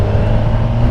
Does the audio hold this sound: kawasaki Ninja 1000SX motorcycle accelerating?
yes